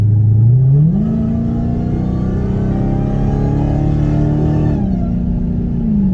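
Hemi V8 engine revving hard at close range, the pitch climbing quickly over the first second, then holding a steady high roar before easing back down near the end, with no voices over it.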